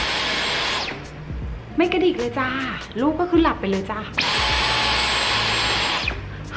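A Dyson cordless vacuum cleaner runs with a steady, even whir, stopping while someone speaks softly in Thai beside a sleeping baby at home, then starting again.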